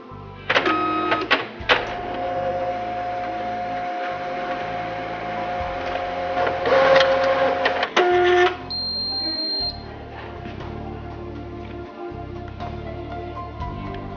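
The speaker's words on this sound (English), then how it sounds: "And now I will place the documents to the automatic document feeder for scanning." A Canon MF8580Cdw multifunction laser printer pulls documents through its automatic document feeder, giving a steady mechanical whir with clicks, rising motor tones and a brief beep, close and loud, with no talk.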